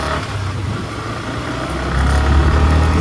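A Yamaha R15 motorcycle engine running with its stock silencer: a steady, fairly loud low rumble that swells slightly toward the end, with no talking.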